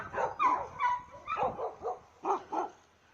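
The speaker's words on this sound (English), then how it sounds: "By the way, there's actually some cute dogs here." Several dogs bark repeatedly at an animal shelter near a gun range, a run of sharp, fairly close yips and barks coming in uneven bursts with brief pauses between them.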